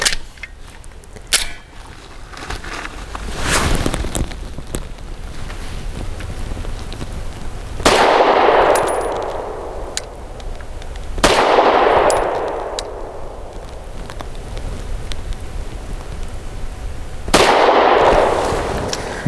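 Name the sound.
gunshots from BUL Armory SAS II Ultralight pistol, 100 grain lead-free ammunition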